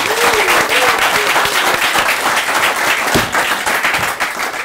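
A studio audience bursts into sustained, loud applause for Leonard Mambo Mbotela, dense clapping filling the whole stretch while a presenter's voice cuts through briefly.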